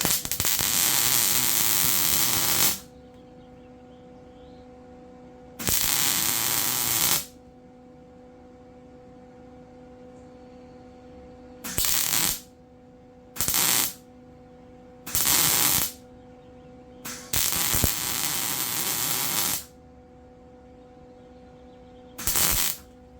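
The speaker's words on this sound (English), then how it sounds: "I'm gonna weld this little gap under here." Arc welding a small gap beneath the trashed mower deck of an MTD Yard Machines lawn tractor: loud crackling, buzzing bursts in several separate runs, short and long, with a steady low hum between them.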